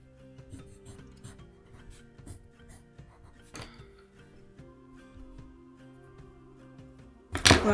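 Harsh strokes of a multi-coloured lead pencil scraping across paper, a run of scratchy rasps with short pauses between, close and alone, ending in a louder burst.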